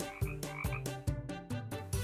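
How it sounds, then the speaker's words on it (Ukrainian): A frog croaks in loud, close calls, about eight throaty pulses in an uneven rhythm, with no other sound between them. "а побачить комара, вимовляє слово ква, ква-ква."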